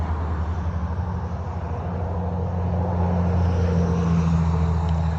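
Road traffic passing near a one-acre rural property in Florida makes a steady, fairly loud low rumble that swells slightly toward the end, with no talking.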